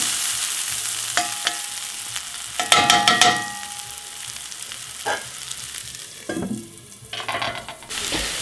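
Onions and peppers sizzle in a pan, a steady close hiss punctuated by several clattering utensil scrapes and clinks as the vegetables are stirred, the frying fading slightly toward the end.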